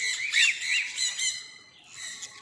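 Loud, harsh bird squawks repeat in quick bursts with a busy overlapping chorus of calls, close by.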